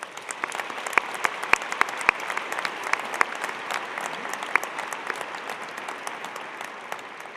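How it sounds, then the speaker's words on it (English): Audience at the Spring 2022 Eberly College of Science commencement claps steadily for over seven seconds, a dense, even wash of many hands with a few sharper individual claps standing out near the start. "Please join me in congratulating them with a round of applause."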